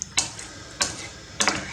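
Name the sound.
stirring Mexican rice in a pot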